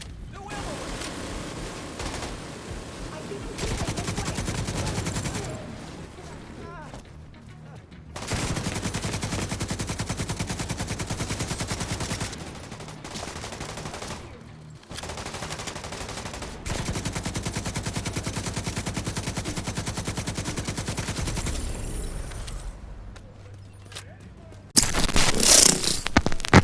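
Light machine gun fire in the Division 2 video game comes in long rapid bursts, loud and close, broken by short quiet gaps and mixed with game effects.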